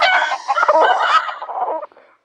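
A chicken clucks in the Avatar World video game, a busy, fairly loud burst of cackling for about two seconds that then fades out.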